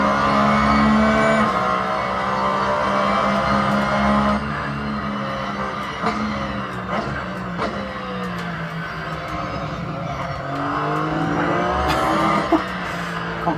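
In Assetto Corsa, a Porsche's engine revs up and down through the gears on a bumpy circuit, with intermittent tyre squeal and skids, loud and continuous and with no speaking.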